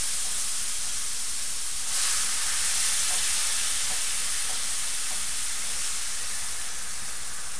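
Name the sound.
bacon, juice and beans sizzling in a skillet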